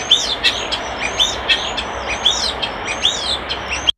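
Repeated bird calls of a common flocking bird, likely a starling, in a chirpy, rhythmic series of about eight sharp tweets with descending whistled notes, close and fairly clear over a soft background hiss.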